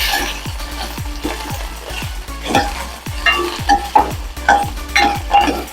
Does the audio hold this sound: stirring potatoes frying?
yes